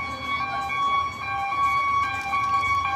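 An ambulance siren wails with steady tonal notes as it passes by, loud and sustained over a low background rumble.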